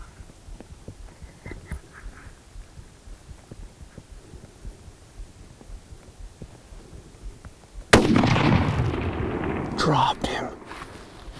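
A single loud rifle shot during an elk hunt in the Black Hills cracks out abruptly after a stretch of quiet, low background rumble, followed by a brief noisy aftermath.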